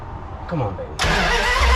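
A 1981 Dodge D150 pickup truck engine, started without a choke, is heard after a brief voice: it cranks briefly, then abruptly catches into a loud, steady, close running roar.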